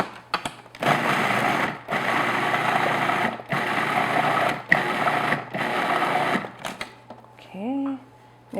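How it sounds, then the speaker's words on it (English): A food processor whirs in several long, steady bursts as it mixes vanilla, eggs and custard filling for a pecan custard tart, with brief pauses between pulses and a short voice near the end. "I'm just going to process just until everything's mixed together"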